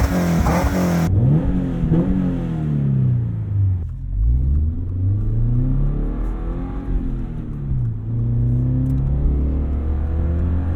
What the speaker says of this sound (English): We have disabled the active sound system, so we're getting that pure, raw exhaust noise.